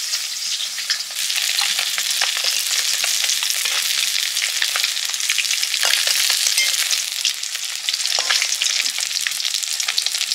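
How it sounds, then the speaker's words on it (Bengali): Bhola fish fry in hot oil with a steady, loud sizzle that is peppered with crackling spatters, and no one speaks. "মাছগুলো ভাজা হয়ে গেছে"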